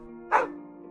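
A single short, close bark-like yelp from a human voice imitating a dog, sounding over a faint steady tonal background.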